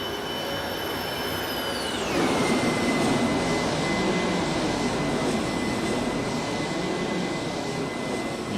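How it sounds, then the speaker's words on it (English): Simulated iniBuilds A300-600R(F) airliner flying past in X-Plane 11, a loud jet engine roar with a high whine that sweeps downward as it passes, then a sustained broad rumble and steady tone, no speech. "Let's go ahead and do a flyby."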